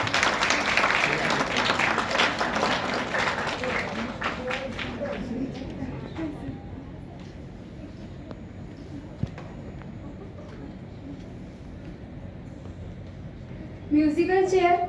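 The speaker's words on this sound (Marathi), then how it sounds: "टाळ्यांचा आवाज खूप कमी येतोय." Dense applause from an audience at a hospital Nurse Day event rolls loudly for several seconds, then thins and fades under an announcer's talking, with a brief burst of noise near the end.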